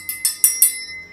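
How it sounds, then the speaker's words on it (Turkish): A small metal triangle, part of a set of preschool rhythm instruments, is struck four times in quick succession, giving bright, moderately soft ringing tones that fade out. "üçgen zili tanıdık"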